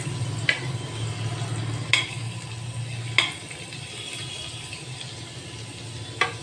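Garlic and fennel seeds frying in hot oil in a pan while chilli parotta is cooked, giving a steady close sizzle broken by a few sharp clicks from stirring.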